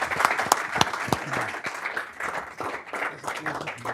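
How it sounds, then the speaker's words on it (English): Summit audience applauding panelists in a conference hall, a few seconds of scattered, moderately loud clapping from a crowd with no voices over it. "Let's give our panelists a round of applause."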